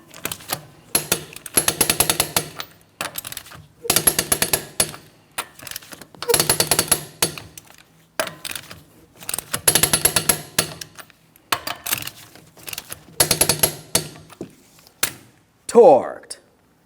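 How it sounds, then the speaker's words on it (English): Lug nuts on a 2004-2008 Grand Prix are run down in a crisscross pattern, about eight short bursts of rapid mechanical ratcheting separated by pauses, ending with a sharper metallic sound. "I'm going to be torquing each one of my lug nuts to that 100 foot-pounds in a crisscross manner."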